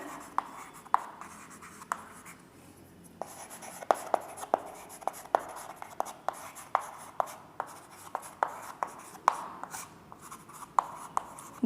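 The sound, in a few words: writing on a board during a chemistry lesson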